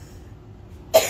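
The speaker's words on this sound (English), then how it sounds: "I am coughing" A single short, sharp cough bursts out at the very end after near silence, close and fairly loud.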